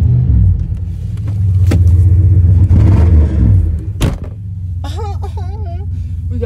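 A GXP car that has sat unused for four months cranks and catches, its engine settling into a loud, close, steady rumbling idle, followed by a sharp thud like a door and a warbling electronic chime.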